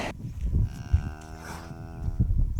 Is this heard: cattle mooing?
yes